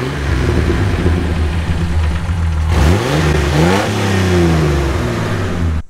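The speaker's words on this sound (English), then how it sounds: "Exhaust sounds great." A Jeep TJ engine idles with a deep exhaust rumble, then revs up and settles back, loud and close throughout.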